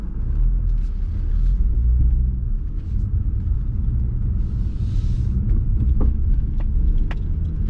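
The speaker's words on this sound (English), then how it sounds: "Driving through a pretty bumpy car park with all different types of terrain" An Acura TSX Euro fitted with KYB shocks rolls over a bumpy car park of mixed terrain, giving a steady low cabin rumble of road and engine noise with occasional faint knocks and thumps.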